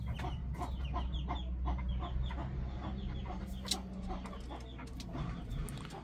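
A red-legged partridge hen clucks softly with her newly hatched chicks peeping nearby, close and steady over a low background hum.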